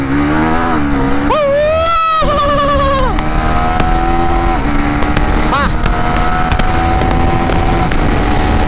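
A Husqvarna Svartpilen 401 motorcycle accelerating hard from close by, its engine note climbing through several gear shifts to a steady high drone with constant wind rush.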